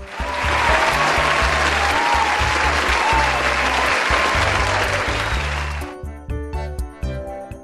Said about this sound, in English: you are right. This is applause.